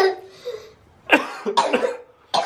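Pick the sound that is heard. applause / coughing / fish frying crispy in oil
coughing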